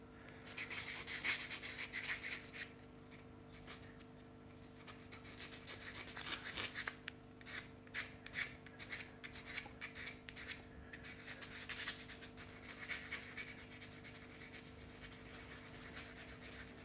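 Sandpaper rubs against a carved wooden coffee spoon in close, steady strokes, a soft scratchy friction that swells and fades in uneven bursts with brief pauses, quiet and without talk.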